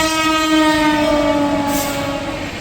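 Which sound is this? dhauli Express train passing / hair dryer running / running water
dhauli Express train passing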